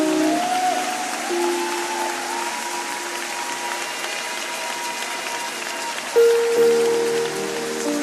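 A church congregation claps together in a sustained, dense patter that sounds like rain. The clapping is close and steady, with a brief louder burst near the end.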